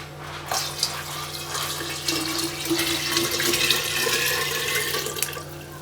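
Sweetened water pours steadily into a container of blackcurrant wine mixture, a continuous splashing trickle with a low hum underneath, fairly close and moderately loud.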